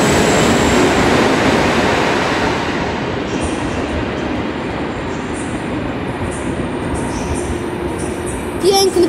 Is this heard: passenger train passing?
yes